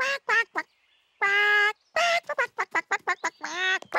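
A person imitates a duck with a rapid series of nasal quacks, close and loud, mixing short staccato bursts with a few longer drawn-out calls.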